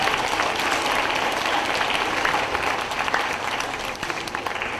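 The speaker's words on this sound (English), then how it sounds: "Give him a big round of applause." A big round of applause from an indoor audience at a presentation, dense and steady throughout with a slight dip near the end.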